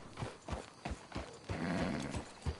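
Horse hooves clopping in a steady trotting rhythm in the video game Red Dead Redemption 2, fairly close and loud, with a denser rumble of movement midway and no talk over it.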